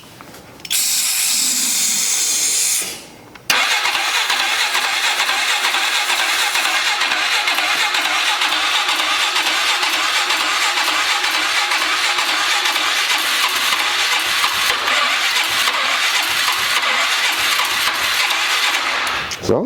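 A 2003 Polaris 500 ATV with oil spraying into its air filter box cranks with a loud starter whir, pauses briefly, then fires and keeps running in a steady, close, buzzing idle with no talking.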